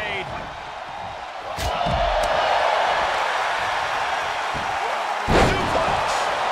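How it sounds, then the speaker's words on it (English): A loud, dense wrestling arena crowd roars steadily in WWE 2K23 during a NJPW tag match, with sharp slams and impacts cutting through and a commentator talking over the noise. "The sound of this crowd is deafening"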